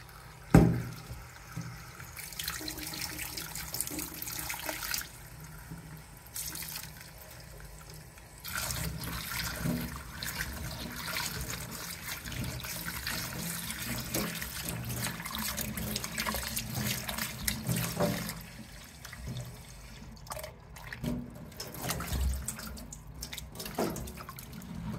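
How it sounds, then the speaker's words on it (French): Water is emptied and refilled in a sink for washing harvested Japanese edamame, with continuous running and splashing, occasional drips and a brief louder pour, fairly faint and without talk. "Donc là je vide l'eau et je vais en remettre encore une fois."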